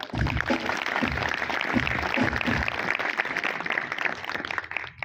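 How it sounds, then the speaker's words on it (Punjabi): A church congregation gives a pastor loud, sustained applause at a New Year worship gathering, dense clapping filling the room steadily for several seconds without a break. "ਪਾਸਟਰ ਜੀ ਦੇ ਵਾਸਤੇ ਇੱਕ ਵਾਰੀ ਜ਼ੋਰਦਾਰ ਤਾੜੀਆਂ ਲਾਓ"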